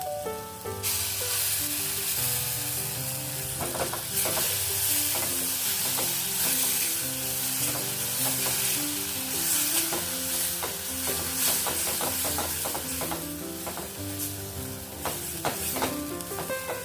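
Ground spice paste with onion, turmeric, asafoetida and red chilli powder sizzles and is stirred in a pan for a cauliflower and potato curry, a steady frying hiss with scraping strokes under continuous background music.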